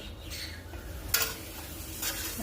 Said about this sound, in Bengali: যে পাঁপড় ভাজছি